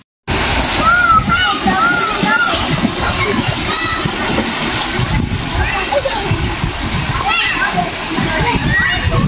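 Waterfall at Dampalit Falls in Los Baños, Laguna, pouring and splashing steadily and loudly for the whole stretch, with a crowd of children and other people chattering and calling over the roar.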